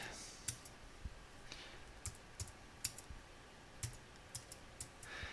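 Computer keyboard keys tapped to enter form data, a quiet, irregular run of soft clicks with short pauses between bursts, close and faint against a steady background hiss.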